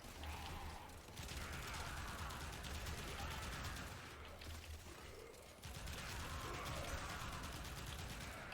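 Rapid gunfire from the Pyrana Prime shotgun in the Warframe video game, a dense, continuous fusillade of blasts that runs nearly nonstop with brief dips, loud and close.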